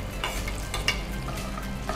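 Tempering sizzles in a hot pan for carrot khadbu and green gram bonda, a soft steady crackle of oil with a few sharper spattering pops and light stirring, close and fairly quiet.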